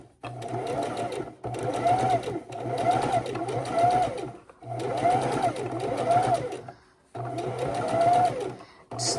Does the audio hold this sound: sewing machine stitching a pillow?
yes